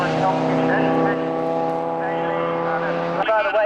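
Triumph TR race cars in a 1995 race, engines droning loudly with a steady sustained tone as the leader runs his seventh lap, then a sharp shift in pitch near the end.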